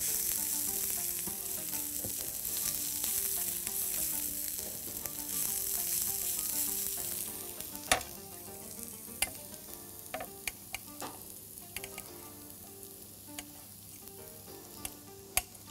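Onions fry in a pan for kishk with meat, sizzling steadily at first and then thinning out, while sharp scrapes and clinks of a spoon stirring land at irregular intervals close by.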